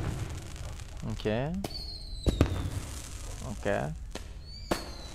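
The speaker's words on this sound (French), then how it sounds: "Mais pour l'instant, ils étaient sympas, les feux d'artifice." Fireworks in a video game whistle up and burst with sharp cracks, several launches rising and popping across the span, while a person talks briefly.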